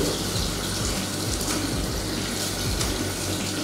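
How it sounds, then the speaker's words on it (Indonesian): Water runs steadily from a tap during handwashing in a clinical skills lab, a continuous close splashing hiss with no talk. "Kemudian ini dengan air mengalir."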